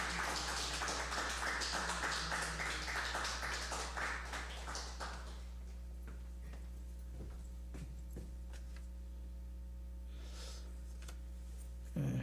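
A church congregation applauds a scholarship presentation during a Sunday worship service, with dense clapping for about five seconds that then stops, leaving a quiet hall with a low electrical hum and a few faint taps.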